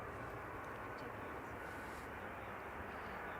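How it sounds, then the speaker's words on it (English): A Boeing 737 airliner arriving at Amsterdam Schiphol Airport, a steady distant broadband engine roar with no distinct peaks throughout. "The 737 arriving from Palma de Mallorca."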